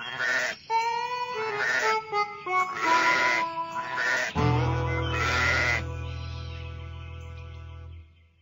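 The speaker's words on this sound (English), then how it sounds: "Sheep." Sheep bleat several times in wavering, nasal cries, loud and close. A long, low, steady bleat closes the sequence, with no voices present.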